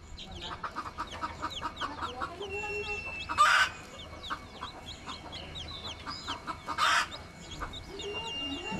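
A jungle fowl hen clucks repeatedly near a wild nest outdoors, in a steady series of short clucks with two louder bursts, over a dense backdrop of chirping birds and insects.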